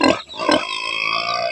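Pigs grunting up close on a farm, a loud burst of harsh grunts and squeals followed by a steady, sustained noisy squeal or drone.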